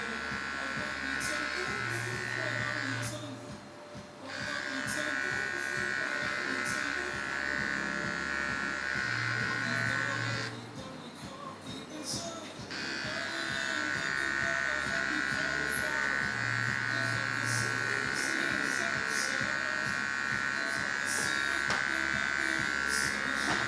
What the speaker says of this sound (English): I'm using the corner rather than the full trimmer like I was doing here because his head starts to curve.